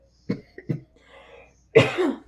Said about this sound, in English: Something keeps making me cough.